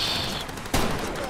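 A single sharp burst of gunfire in the shooter game Far Cry 2, one loud crack rising abruptly out of a steady background hiss and fading quickly.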